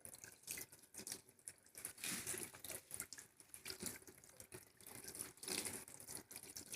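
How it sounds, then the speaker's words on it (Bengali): Hands are rubbed and scrubbed under a running tap, with a steady close splash of water and uneven pulses of rubbing and dripping, no voices. "এই জল দিয়ে ভালো করে এরকম করে নিয়ে ভালো করে ঘষে ঘষে ধুয়ে"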